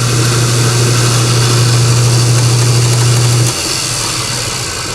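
A 6-volt generator spins on a generator-alternator-starter tester at around 2500 RPM, giving a loud, steady mechanical whir with a strong low hum that cuts out near the end, leaving quieter running noise.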